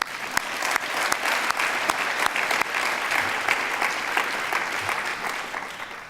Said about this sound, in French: Moi-même, je les applaudis